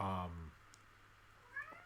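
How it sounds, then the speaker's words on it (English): A house cat gives a single short, rising meow at a moderate distance, heard just after a person finishes speaking. "that's my cat Buster."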